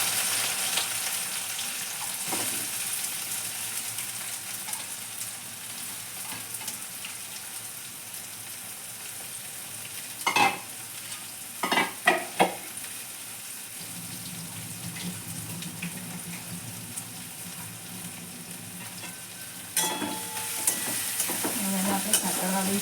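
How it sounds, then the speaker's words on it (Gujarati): Onions frying in a pan with cinnamon sticks and cloves for a chicken dish, giving a steady close sizzle with a few brief scraping stirs and a louder bubbling hiss near the end; no one speaks. "હવે આ તજ લવંગ સકળાઈ ગયા છે, એની અંદર આપણે આ કાંદા એડ કરી દઈશું."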